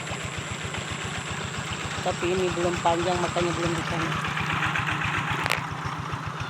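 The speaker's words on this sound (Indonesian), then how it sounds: "ini adalah proses penggarapan memakai traktor di sawah kampung kami" A tractor engine chugs steadily while working a rice paddy in a village, its rapid even pulsing continuous throughout at moderate distance, with a person talking over it partway through.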